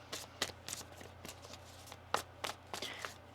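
A deck of tarot cards being shuffled by hand, a series of quick riffling bursts and soft flicks at an irregular rhythm, close and fairly quiet over a low background hum.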